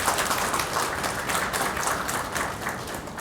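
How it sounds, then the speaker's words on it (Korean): Audience applause at an exhibition opening ceremony at Seoul City Hall, a full, steady round of clapping from a crowd, evenly loud across the few seconds with no speech. "힘찬 박수 다시 한번 부탁드립니다."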